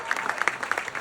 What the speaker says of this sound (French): On va l'applaudir plus fort que ça